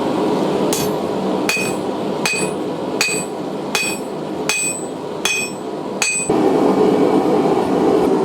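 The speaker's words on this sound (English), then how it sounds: "It has been a long time since I have swung a hammer" Hammer blows forging a railroad spike knife on a steel anvil, about eight sharp ringing strikes at a steady rhythm, close and loud over a constant background hum.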